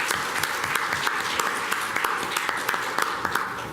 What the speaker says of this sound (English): put a round of applause for Bobby Verdugo